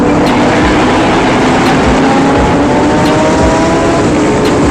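Kawasaki Ninja ZX6R motorcycle ridden at full throttle at high speed, a loud continuous engine roar mixed with heavy wind rush, steady and close throughout.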